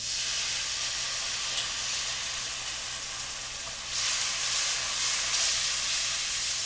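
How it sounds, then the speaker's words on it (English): Beef broth going into a hot roux paste in a pan for brown gravy, a loud continuous steamy hiss that swells stronger midway, with no other sounds on top. "We're going to slowly add in beef broth."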